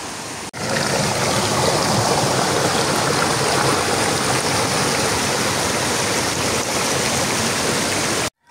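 Imugan Falls pours in a continuous, dense rush of flowing water, loud and close, a steady broadband roar that holds without variation and then cuts off abruptly.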